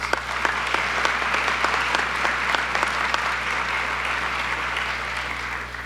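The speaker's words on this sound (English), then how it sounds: "Let's give him another round of applause." Steady applause from the audience at a Louisville police swearing-in and promotions ceremony, many hands clapping continuously throughout with a low hum underneath.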